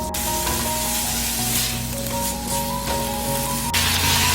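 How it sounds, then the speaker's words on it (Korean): Meat stir-frying in a pan over high heat gives a loud, steady, close sizzle that keeps going with small shifts as it is stirred. "팬에 고기를 넣고 센 불에서 볶아주세요."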